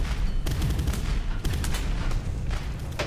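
Heavy gunfire aimed at a PT boat during a battle with the Imperial Japanese Navy in Boat Crew, continuous rattling bursts with sharper cracks at intervals, loud and close throughout with no talking.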